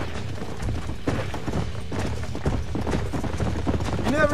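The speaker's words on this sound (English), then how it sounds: "We can really do with those horses." Horse hooves clip-clop in a rhythmic, uneven patter in the Xbox 360 game Red Dead Redemption, mixed with game ambience and voices in the background.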